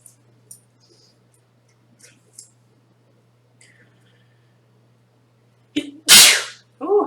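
One loud, sharp sneeze, set off by dust from a computer fan during a PC build, breaks a quiet stretch of soft clicks and faint whispery sounds near the end, followed by a brief breathy trailing sound.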